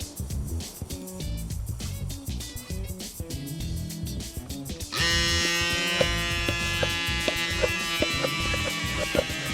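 A tiny portable digital electric bike pump whirs with a thin, high motor buzz, quiet at first, then jumping to a louder, steady drone about halfway through.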